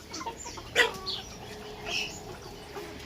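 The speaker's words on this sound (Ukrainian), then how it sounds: "Оці шпилгалки вже граються з курями, співають." Three-and-a-half-month-old young roosters and hens cluck on a village farm, a few short close calls and squawks scattered over a quiet yard.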